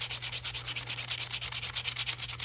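Rhythmic scratchy sanding strokes rubbing back and forth at a steady quick pace on the wooden corners of a marking gauge, close and continuous, over a faint low hum.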